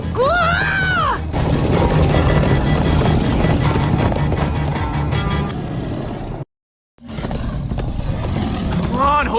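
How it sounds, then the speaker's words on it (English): Horses galloping in the video game Minecraft Story Mode, a loud continuous rush of hoofbeats with a whinny at the start, music and effects over it, a brief dropout near the end. "Come on, horses!"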